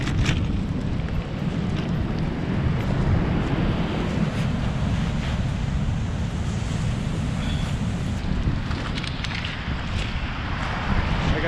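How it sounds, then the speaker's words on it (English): Ocean waves wash onto the shore at Olympic National Park in a continuous, roaring surf, with heavy wind buffeting the microphone throughout and no clear voices. "I'm not sure if you guys can hear me with the waves being pretty loud, but this view is pretty beautiful of these waves splashing."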